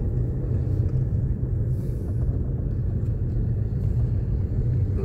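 A car driving through Woburn Safari Park in England gives a loud, steady low engine and road rumble throughout, heard from inside the vehicle with no distinct voices.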